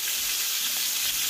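Beef stir-fried in oil in a pan sizzles in a dense, loud, continuous hiss, close up and unbroken throughout, with no voices.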